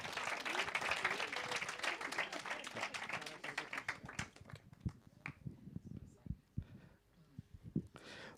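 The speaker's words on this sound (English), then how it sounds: "A round of applause." Audience round of applause during a live quiz segment, strong and close at first, then thinning into scattered individual claps and snaps as the crowd settles, with faint murmuring underneath.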